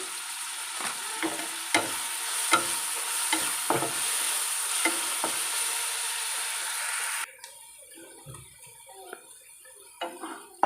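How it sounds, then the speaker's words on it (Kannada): Tomato and onion fry in a pan for a coastal-style crab sukka, a steady close sizzle broken by sharp spatula taps and stirring scrapes, the hiss dropping away abruptly partway through and leaving only scattered clinks. "ನೋಡಿ, ಟೊಮೆಟೊ ಈರುಳ್ಳಿ ಈ ರೀತಿಯಾಗಿ ಫ್ರೈ ಆಗಿದೆ."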